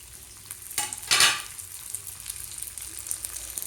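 Cluster beans (gawar phali) hit hot oil in a pan, giving a fizzing sizzle with two sharp bursts as they go in, then a steady crackle that settles under faint clatter.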